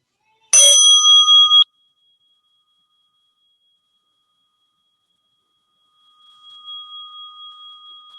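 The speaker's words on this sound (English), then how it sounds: "And with the bell, you can open your eyes." A single bright meditation bell is struck once, its clear high tone ringing steadily for about a second, then silence, with a faint hum returning later; no voices.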